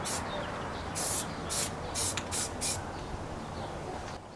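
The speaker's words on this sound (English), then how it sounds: "Got this bottle of filler primer here, so I'll go ahead and hit it with that real quick." Filler primer sprayed from a spray can during a 2004 Dodge Ram Cummins diesel engine repair, several short hissing bursts of about a quarter to half a second each, close and fairly loud over steady shop noise, no talking.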